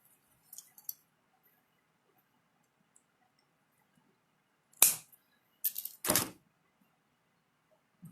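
Cutters snipping off excess steel wire for enameling give a few sharp, dry clicks and snaps, with small ticks early on and two louder close cuts near the end, otherwise near silence.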